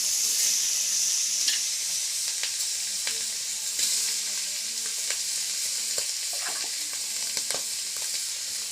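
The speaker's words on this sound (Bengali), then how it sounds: "এই যে মাছ সম্বার দিতেছে" Hilsa fish frying in hot tempering oil for a village-style sour curry, a steady loud sizzle with scattered crackles and pops throughout, no talking.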